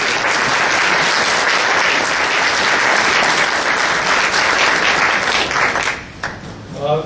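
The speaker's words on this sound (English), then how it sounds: "So let's give them another round of applause." A loud, dense round of audience applause at a police department awards ceremony, sustained and even before thinning out and tapering off in the final second or so.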